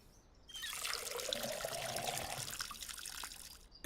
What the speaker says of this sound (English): Let's fill the watering can up.